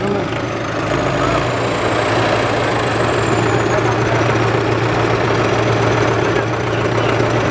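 A Sonalika DI 750 tractor with a fault in its engine runs close by, a loud, steady, rough idle with a heavy knocking vibration throughout.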